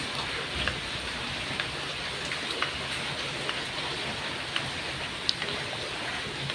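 Steady rain falling in a garden, a dense even hiss with scattered close drops tapping on surfaces, fairly faint and alone.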